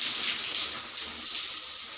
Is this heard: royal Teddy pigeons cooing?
no